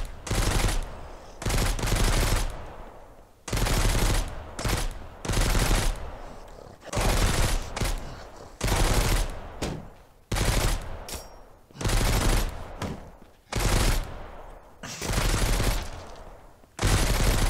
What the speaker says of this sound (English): What's he shooting at?